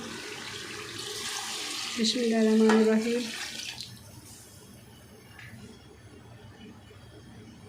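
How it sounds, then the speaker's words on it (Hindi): Water splashes from a tap or pot into cooked chicken for a Punjabi chicken pulao, in a short burst of about a second and a half, with a voice speaking briefly nearby. "इसमें अब हम पानी ऐड कर देंगे"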